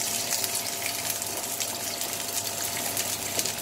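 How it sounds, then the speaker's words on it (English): Steak pieces laid in a hot frying pan give a steady, dense sizzle of crackling fat and hiss throughout, continuous and fairly loud with no voices. "So I'm just gonna throw that in there, let it sizzle."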